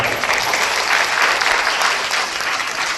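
Audience applause at a Hindu gathering in Srungavarapukota, a dense, loud wash of many hands clapping continuously for a few seconds.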